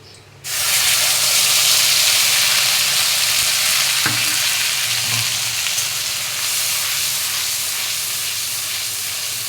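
A steady, loud sizzle bursts in after a short pause as a paste of rice-grain-sized melon seeds, green chillies and ginger hits hot oil for raw banana kofta, hissing on continuously with a faint clink midway.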